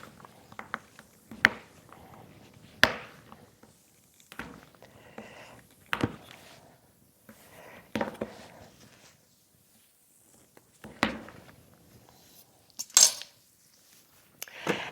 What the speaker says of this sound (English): It cuts very easily, and I'm just going to cut it in chunks